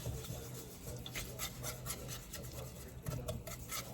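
A brown sugar mixture is stirred in a pan over medium heat, giving a continuous close scraping rub of a utensil against the pan bottom, steady and fairly soft, with no talking.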